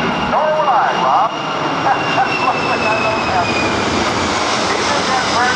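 A C-17 Globemaster III jet transport makes a tight turn with its landing gear down at an air show, a loud, sustained roar of jet engines sweeping overhead, with voices talking over the noise.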